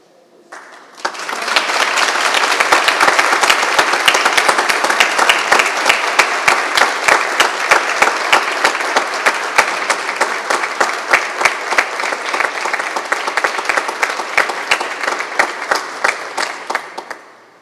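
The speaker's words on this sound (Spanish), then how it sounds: "darle un gran aplauso a sus familiares en señal de gratitud" A large audience at a university graduation ceremony gives a long, dense burst of applause for the graduates' families, steady and loud for over fifteen seconds before tapering off.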